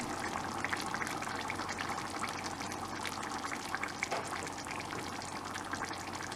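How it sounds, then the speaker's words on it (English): Curry simmering in a pot, a dense, continuous bubbling and hissing that holds steady at close range, with no voices over it. "so it's just simmering nicely"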